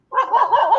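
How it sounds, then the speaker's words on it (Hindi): A dog barks nearby during an indoor conversation, one short, loud, slightly whining bark lasting under a second with no voices over it. "ये कुत्ता कहाँ से भौंक रहा है?"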